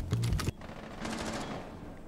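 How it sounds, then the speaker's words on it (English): Gunfire in the tactical shooter Rainbow Six Siege: a quick rapid burst of close shots lasting about half a second, then a lower, muffled rattle of distant fire continues after it. "Oliver, taking some shots."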